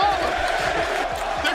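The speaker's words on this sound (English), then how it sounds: "each one of their names being chanted by the New Jersey crowd." A New Jersey wrestling crowd at a WWE event chants loudly and steadily, a dense mass of voices filling the arena with rhythmic cheering.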